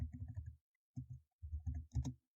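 Keys on a computer keyboard tap in quick, close bursts, about a dozen clicks in three short runs separated by brief pauses.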